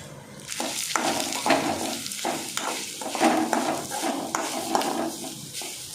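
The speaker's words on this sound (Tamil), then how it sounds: "இப்போ இதை நான் எல்லாத்தையும் போட்டு நல்லா வதக்கிக்கலாம்" Chana dal, urad dal, garlic, tamarind and coconut being sautéed in a pan, a steady close sizzle with repeated scraping stirs and light clinks of a spoon against the pan.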